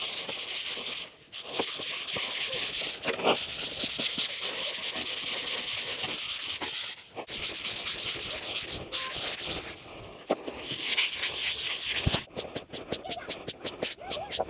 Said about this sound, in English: I went ahead and took a cloth and just rubbed off as much as I could